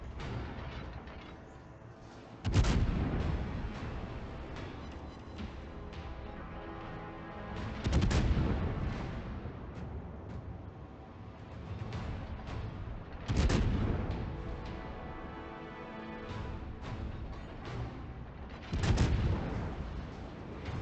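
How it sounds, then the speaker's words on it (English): Heavy naval gun salvos from a Des Moines cruiser in World of Warships, four booming volleys spaced several seconds apart over a steady low rumble of ship ambience. "I continue to shoot a bit more on the Salems"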